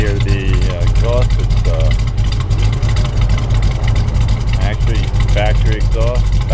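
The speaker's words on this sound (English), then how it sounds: "And you can hear the exhaust." A deep, throaty V8 exhaust on a 1970 Chevelle SS with factory manifold, mufflers and resonator idles steadily with a lumpy rumble, while someone talks over it throughout.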